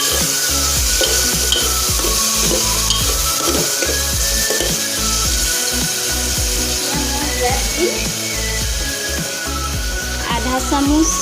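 Chopped tomatoes go into a pan of fried onions, making a loud, continuous sizzle with repeated scraping and stirring knocks throughout.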